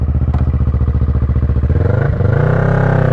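A Kawasaki ER6N motorcycle engine drones steadily and loudly during a ride, with a rhythmic pulsing that shifts in pitch partway through as the engine changes speed.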